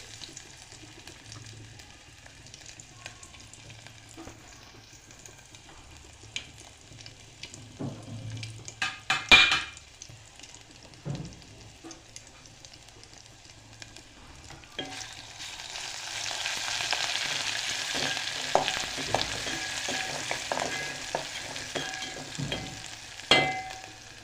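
Ginger-garlic paste frying in hot oil in a pot while veg pulao is made, with a faint crackle and scattered clicks early on, then a louder, dense hiss that builds and holds.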